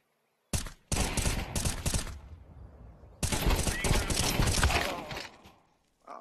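Counter-Strike 2 gunfire cracks out in two dense automatic bursts, a short one followed by a longer sustained spray, loud and close, with brief silence between them.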